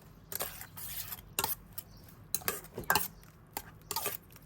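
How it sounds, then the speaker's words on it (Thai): A spoon scraping and clinking against a bowl while stirring seasoning and fish sauce into a red ant egg and chicken egg mixture, a series of close, brisk knocks and scrapes in irregular bursts. "คนให้เข้ากันนะคะ"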